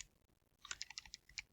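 Keys on a computer keyboard are tapped in a quick, light burst of about a dozen crisp clicks, close and fairly quiet, after a brief near-silent lead-in.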